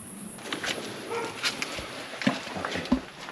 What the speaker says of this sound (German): Und nicht weit von hier bellt ein Hund.